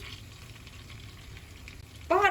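Mint and chili flakes sizzle softly in melted butter in a pan, a low steady frying hiss that ends with a brief burst of voice.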